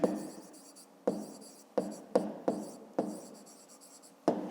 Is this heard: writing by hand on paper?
yes